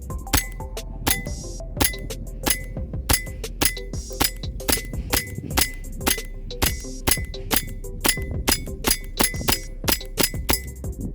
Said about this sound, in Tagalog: Dito naman tayo sa isang bote, tingnan natin baka mapasag niya to.